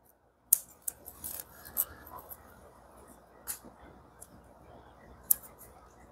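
Scissors snipping corners off fly tying material, a few sharp, close, faint clicks and cuts spaced irregularly over quiet rustling and rubbing, with no talking.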